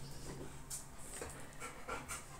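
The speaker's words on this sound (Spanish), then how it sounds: "Está jadeando todo el rato." A dog pants steadily and rapidly on a hot day, its quick breathy rhythm close and continuous throughout with no talking over it.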